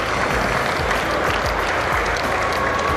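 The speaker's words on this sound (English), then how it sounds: "a round of applause for the incoming president" Hall audience at a Nigerian biotechnology society event bursts into full, dense applause for an incoming president, loud and continuous throughout with no talk.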